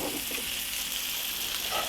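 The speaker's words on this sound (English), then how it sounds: "You mostly want to cook your smoked sausage till it just cooks through and browns a little bit." Smoked sausage frying and browning in a pot, a steady close hiss of sizzling fat with a faint stir near the end.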